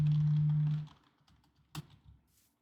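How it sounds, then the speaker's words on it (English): A computer keyboard with many keys pressed at once in a rapid burst, close and fairly loud at the start, then fading to a few scattered faint clicks and one sharp tap. "I pressed all the keys and then I realized I was recording"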